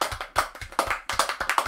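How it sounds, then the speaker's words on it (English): A single person claps for Sweet Pea, a quick, close series of sharp hand claps in a loose irregular rhythm with no talking. "Round of applause for Sweet Pea."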